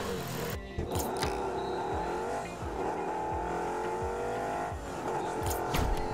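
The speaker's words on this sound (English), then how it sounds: "I'm trying to find an engine that sounds like a truck." A car engine in Rocket League revs and whines as a truck-like vehicle races along, with repeated rising and falling pitch sweeps and brief tire squeals over a continuous game roar.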